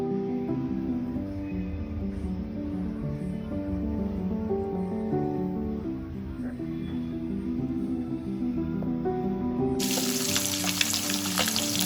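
Fish frying in a pan gives a steady, close sizzle that runs the whole time, with a brighter burst of crackling near the end.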